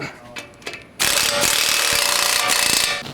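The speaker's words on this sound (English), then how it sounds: "Now we're going to tighten our lower ball joint nut. It's a 24 millimeter socket." A ratchet fitted with a 24 mm socket tightens the lower ball joint nut on a 2019-or-later Chevy/GMC 1500 during a lift kit install, sounding as one long continuous, close, loud clicking run after a few quiet ticks.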